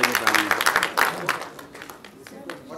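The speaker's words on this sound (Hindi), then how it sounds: "शिल्पा जी के लिए जोरदार तालियां हो जाए प्लीज।" Audience applause at a film trailer launch event, a broad crackling wash of clapping that swells strongly at first, then thins and fades toward the end, with a voice faintly audible near the start.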